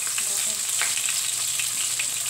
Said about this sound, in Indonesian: Nunggu dia panas, nanti kita goreng ikan asinnya ya.